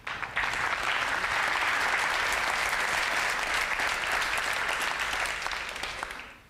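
An audience at a talk on a hydrogen-powered motorcycle breaks into sustained applause, dense and even for several seconds before fading out at the end.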